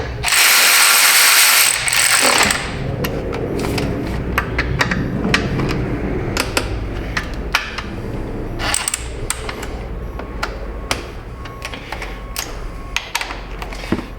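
A ratcheting torque wrench clicks repeatedly while working on a 2017 Subaru Outback. A loud noise burst opens, then irregular close mechanical ratchet clicks follow, with no speech.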